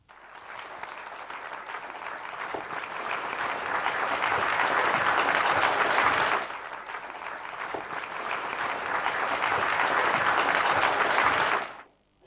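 A symposium audience gives sustained, even applause as the Holberg Prize laureate, Professor Fredric Jameson, is welcomed, a dense clapping that swells, briefly eases, then continues before stopping abruptly.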